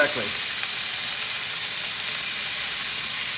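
Little neck clams sizzling in hot oil in a pan, a steady loud frying hiss that fills the whole moment without a break.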